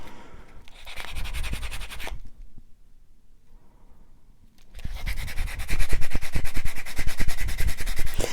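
Bead being sanded with a fine nail-style buffing block while making a knotted necklace: close, gritty rubbing in two stretches, a short burst, a quiet pause, then a louder, steady scrubbing run.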